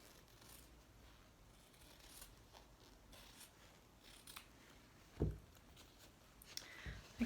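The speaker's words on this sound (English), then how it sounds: "I can cut this out on that outer transfer line" Scissors snip through embroidery fabric along a transfer line, a few quiet close cuts with one sharper clip near the end, otherwise near silence.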